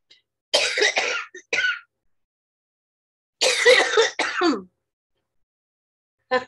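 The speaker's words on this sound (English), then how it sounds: "When you try to suppress the cough, it just gets worse." Two loud bursts of harsh coughing close up, each a quick cluster of hacks, separated by silence.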